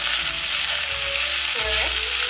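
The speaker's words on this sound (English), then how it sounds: "Now I will put this boiled basmati rice in it. Slowly" Boiled basmati rice fries in a pot with a constant close sizzle, while a utensil stirs it now and then with short scraping sounds.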